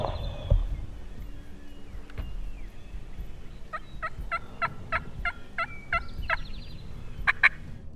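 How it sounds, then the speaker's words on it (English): Wild turkeys gobble during a spring hunt, a run of rapid rattling gobbles in the middle distance followed by a closer burst near the end, over outdoor ambience. "3 different big gobblers going down"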